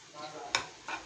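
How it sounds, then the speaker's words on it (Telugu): Food being stirred in a pan after turmeric goes in, with a sharp scrape or clink of the spoon against the pan in the middle and a softer scrape near the end over a low sizzle, close by. "పసుపు వేసుకున్నాక తిప్పుకోవాలి."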